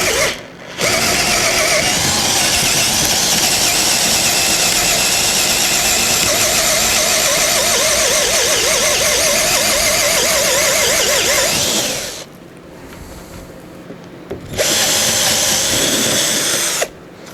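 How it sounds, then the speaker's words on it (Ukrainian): A Procraft PA18DFR cordless drill on first speed spins a Forstner bit, a loud steady whirring drone that runs for about eleven seconds, cuts out briefly, then resumes for a short second burst, close up with no talk. "І це вже в нас сюди не встане, тому що воно кругле. Зажмемо його в патрончику. Швидкість у нас перша."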